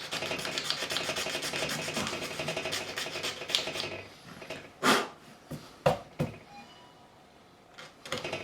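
Scraping between the frets of a Gibson SG fretboard, a dense run of rubbing, rasping strokes that stops partway, followed by a few short, sharp scrapes spaced apart, close and fairly quiet.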